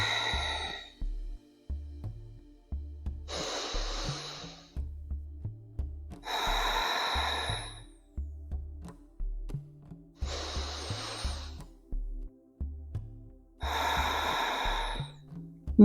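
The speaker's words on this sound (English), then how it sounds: "let's do our 3 breaths wherever you are together. Inhale and exhale." Five slow, deep yoga breaths, each a long airy inhale or exhale, spaced evenly with quiet pauses and a soft pulsing backing rhythm underneath.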